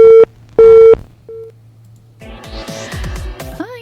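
A telephone busy tone sounds after a dropped phone line: two loud, steady tone bursts and a shorter third one, then a studio music bed with a sweeping synth comes in.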